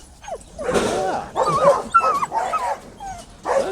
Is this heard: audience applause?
no